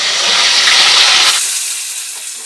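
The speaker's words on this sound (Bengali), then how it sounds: "তেল গরম হয়ে গেছে বন্ধুরা, এবার আমি এর মধ্যে দিয়ে দেবো 4 টুকরো শুকনো লঙ্কা, গোটা জিরে, মৌরি, এলাচ, লবঙ্গ, স্টারনিস, জয়িত্রী, দালচিনি সব দিয়ে দিলাম।" Whole dried red chillies, cumin, fennel, cardamom, cloves, star anise, mace and cinnamon hit hot oil for a fish rezala, giving a loud, steady hiss and crackle that eases off into a softer, thinner sizzle.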